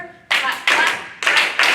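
Hands clap four times at a steady, deliberate pace during a salsa dance routine, each sharp, loud clap ringing close by with no voices.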